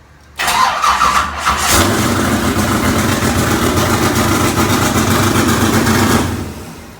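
A limited late model race car engine cranks and catches, then settles into a throaty, rumbling idle close by, holding steady for several seconds before cutting off.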